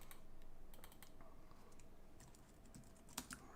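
Quiet, quick keystrokes tap on a computer keyboard in short irregular runs over a steady background hiss, ending with a couple of firmer clicks.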